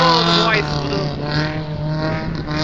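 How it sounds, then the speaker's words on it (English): A black Maruti Zen rally car at a Patiala rally sweeps past with a strong harmonic engine whine that rises and then eases as it goes by, loud and close throughout. "You can see the car is coming in few seconds, the black and car."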